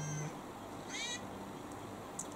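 A phone alarm tone that mimics a cat's meow gives a short wavering meow-like cry, then fainter chirps, heard at moderate volume over steady room hiss during a quiet makeup session.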